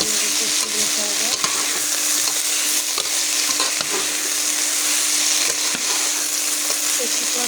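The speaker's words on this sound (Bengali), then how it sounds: "তরকারিগুলো ভালো করে নেড়ে নেড়ে কষিয়ে নিতে হবে।" Jackfruit curry is stirred and fried in a wok, a loud steady sizzle with repeated scraping strokes of a spoon against the pan, close up and without talk.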